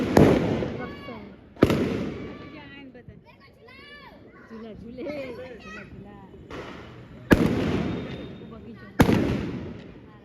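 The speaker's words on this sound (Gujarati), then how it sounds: "ફટાકડા ફોડે છે" Firecrackers set off outside a flat building during Diwali celebrations burst in four sharp, loud cracks with crackling tails, separated by gaps where children and adults talk and call out nearby.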